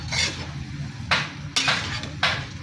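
Bean sprouts stirred in a cooking pan for tuna-flake lumpia, with three or four sharp scraping clatters of a utensil against the pan over a low, steady background hum.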